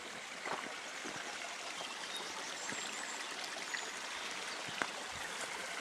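A shallow stream runs beside a small footbridge in the Quantock Hills and gives a steady, even rushing and trickling of water throughout, with a few faint knocks and ticks over it.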